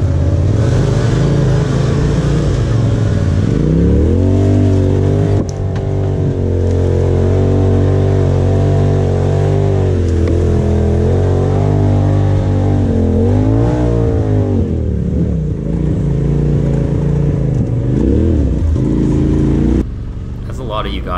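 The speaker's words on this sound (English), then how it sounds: "Other local boys riding their motocross bikes" Motocross bikes ridden on an extreme off-road trail make a loud, continuous engine roar, rising and falling as throttles open and close, with a strong low rumble and a brief dip near the end.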